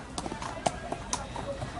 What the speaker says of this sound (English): So Mulan gets on the horse and rides it.